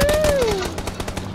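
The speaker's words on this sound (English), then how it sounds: "there's people shooting around us" Video game gunfire rattles in rapid bursts close by, loud and continuous through the short stretch, while a whistling tone glides downward near the start.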